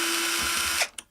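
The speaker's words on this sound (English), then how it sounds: "So I'm just going to use a drill here." Power drill whirring steadily at close range while undoing a screw on a Fender Super Champ tube amp, then cutting off abruptly with a short mechanical clack at the end.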